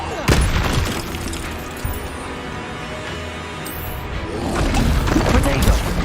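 Spell-casting blasts in a Harry Potter video game: a sharp boom and shattering crash at the start, a thud midway, then a swelling rumble of explosions and impacts toward the end, with voices calling out over the action.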